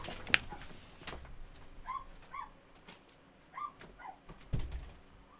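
Dogs bark in short, scattered bursts across a quiet room, some sharp and near, others fainter and farther off, with no talk over them.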